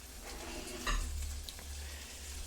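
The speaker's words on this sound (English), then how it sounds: "it's starting to sizzle" Broccoli florets frying in a pan, a faint continuous sizzle with a soft stirring scrape near the start, heard alone without talk.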